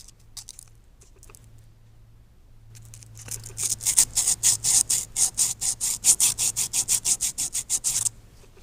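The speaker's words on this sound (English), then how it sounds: "you can use the sandpaper and the flat surface" An XDM pistol trigger part is rubbed back and forth on sandpaper laid on a flat surface, a quiet scrape at first, then a steady run of about twenty loud, evenly spaced rasping strokes, close and alone.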